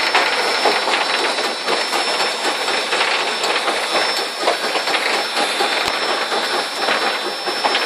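Riding behind a steam engine on the Pleasant Point Railway in New Zealand: a loud, continuous roar of the moving train with rumbling wheels and rattling carriage noise, close and steady throughout.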